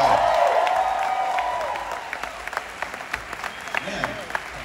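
Audience applause fills a New York Comic Con 2019 panel room for the Yu Yu Hakusho Funimation reunion, loud at first and then thinning out into scattered claps and a few cheers as a voice speaks over it.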